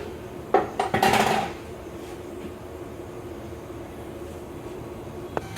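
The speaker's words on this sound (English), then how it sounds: "You're gonna pry it forward, and the drive line will come down, and you pull that booger out." A drive line is pried forward and pulled out from under a 2013 Chevy Silverado 2500 pickup. A few sharp metallic clanks and scrapes come close together near the start, followed by a long, quiet stretch and one last small knock.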